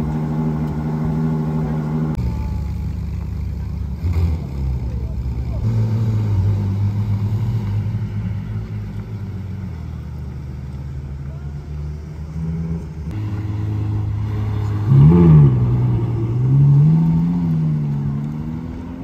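Car engine at a Cars & Coffee show starting up and settling into a steady low rumble, with a few revs later on and faint background voices and crowd noise.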